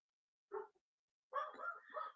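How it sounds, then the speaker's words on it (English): Dogs let out a short bark, then a longer run of quick overlapping barks, faint and somewhat distant with silence around them. "My dogs always have to just bark at every person they see."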